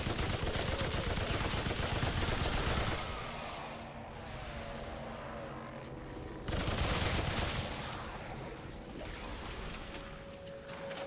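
Rapid weapon fire in the video game Remnant 2, two loud, dense bursts of continuous shots separated by a quieter stretch of lingering mechanical and ambient game sound.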